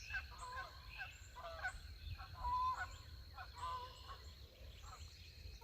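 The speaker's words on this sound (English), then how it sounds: "Oh, there goes some geese." Geese honking outdoors on a homestead, a cluster of repeated nasal calls overlapping at moderate distance over a low background rumble.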